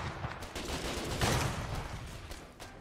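Scattered gunshots and distant fusillade from the war game Foxhole, a few sharp cracks peaking near the middle amid rumbling battlefield noise, no voices heard.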